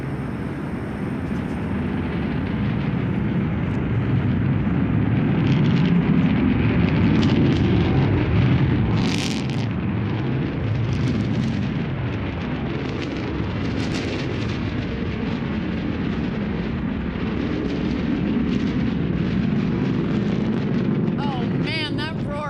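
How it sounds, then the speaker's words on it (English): Blue Origin New Shepard rocket climbing away after clearing the launch tower, a steady loud low roar with crackling rumble held for the whole stretch, heavy wind buffeting, no talk. "And New Shepard has cleared the tower on her way to space."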